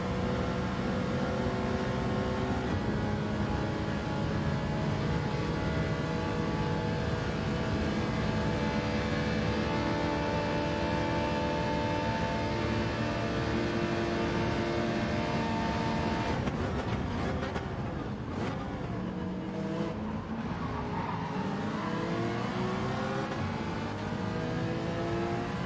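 In Gran Turismo 7 Gr.4 racing, a loud, sustained high-revving engine drone runs throughout; about two-thirds in, a rival race car sweeps past close by, its engine pitch swooping and dropping before the steady drone returns.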